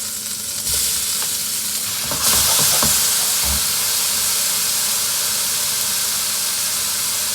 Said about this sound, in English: once the wok is properly preheated, I'm just gonna go in with about a teaspoon or a tablespoon of vegetable oil, and then the tomatoes go in